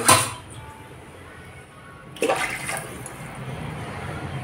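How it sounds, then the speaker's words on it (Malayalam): Water is poured from a glass into a pot of rice for Arabian kabsa. A brief splash comes right at the start, then a second, longer rushing pour begins midway and runs on. It sounds close and moderately loud. "അപ്പോൾ തന്നെ 2 ഗ്ലാസ് കൂടെ വെള്ളം എനിക്കിതിൽ വേണം"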